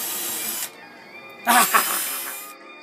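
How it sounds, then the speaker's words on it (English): A power drill whirs in two bursts while boring holes into the edge of a chalkboard pin board, the second run louder and straining as the bit bites into the material, with a short pause between. "I'm drilling some holes in the edge of this really cool chalkboard pin board"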